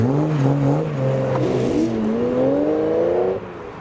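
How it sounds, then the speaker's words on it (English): A Ferrari Testarossa flat-12 engine revs and climbs in pitch with a smooth, rising tone, loud and close at a car meet, then cuts off sharply near the end. "the next car to leave is the Ferrari Testarossa. Hopefully we can hear this because the flat 12 sings"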